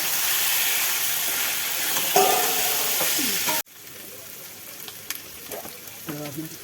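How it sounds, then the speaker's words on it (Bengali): Meat dropped into a pan of fried spices, loud steady sizzling that cuts off abruptly to a quieter frying hiss with occasional clinks, a voice briefly heard underneath. "মশলা কষা হয়ে গেছে, এবার মাংসটা দেওয়া হচ্ছে"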